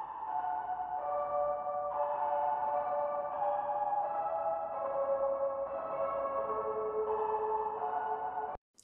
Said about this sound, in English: here's what that reverb track actually looks like in audio